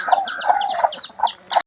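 Chickens at a Buddhist temple in Lampang, Thailand, cluck and chirp in a steady series of short calls, close and fairly loud, with no talk over them.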